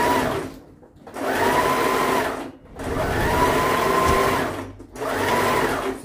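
A domestic sewing machine backstitches a seam on knit trousers, running in three steady whirring bursts separated by brief pauses, close and loud with no talking.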